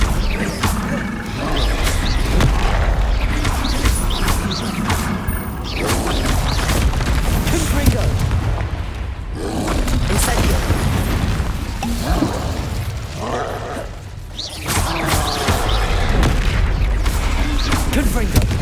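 Confringo fire-blast spells bursting in combat in Hogwarts Legacy, loud booming explosions and crashes repeating throughout amid shouted spell incantations and battle effects.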